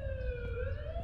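A police siren from the Korean horror game The Coma: Cutting Class wails steadily, a sustained rising tone over a low rumble, moderately faint and heard alone.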